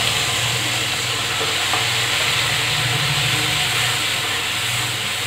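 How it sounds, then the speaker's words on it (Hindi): Tomatoes frying in oil on a high flame give a loud, continuous close-up sizzle and hiss with faint stirring scrapes, steady throughout with no voices. "इस टमाटर को हम ऑयल सेपरेट होने तक भूनेंगे, इसे मैं हाई फ्लेम पर भून रही हूँ।"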